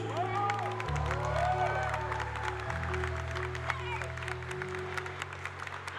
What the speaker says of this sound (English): Let's give a final cheer for our 2025 Pokemon Latin America International finalists